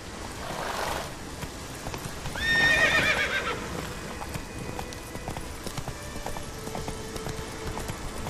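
Horse in The Witcher 3 game, with rapid clip-clop hoofbeats and a loud neigh partway through, then steady trotting hooves continuing, no talk.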